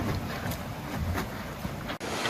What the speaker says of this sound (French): On peut parler de navigation toute voile dehors.